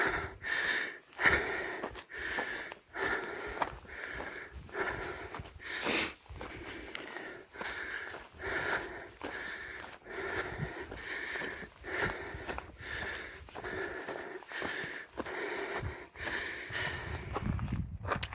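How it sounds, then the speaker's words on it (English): Heavy, rhythmic breathing from a hiker climbing uphill on a mountain trail, a steady loop of loud wheezing inhales and exhales close to the microphone, with faint footsteps between breaths and no talk. "I'm going uphill. I'm a little out of breath."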